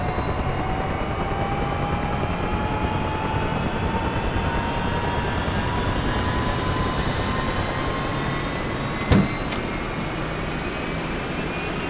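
A UH-1 Huey helicopter engine starts in the DCS flight simulator: a steady, loud turbine roar with slowly rising whining tones as it spools up, and a couple of sharp clicks near the end.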